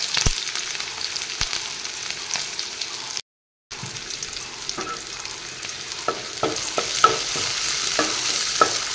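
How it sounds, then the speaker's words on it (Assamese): Onion, garlic and green chilli sizzle in hot oil in a wok, a steady crackling fry with occasional stirring clinks and a brief cut of silence midway. "তেলখিনি গৰম হৈছে, পিঁয়াজখিনি দি দিছোঁ। তাৰপিছত দি দিছোঁ নহৰু আৰু কেঁচা জলকীয়া দিছোঁ।"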